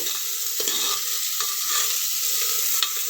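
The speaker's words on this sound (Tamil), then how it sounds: "கேரட் இந்த எண்ணெயில் நல்லா வதங்கி வரணும்" Carrots sautéing in oil in a pan give a steady, fairly loud sizzle, broken by a few soft scrapes and taps of a spoon as they are stirred.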